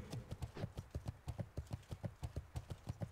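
Horse mount hooves clip-clop in World of Warcraft Classic, a steady even trot of crisp, distinct hoofbeats at a quick pace with no talk over them.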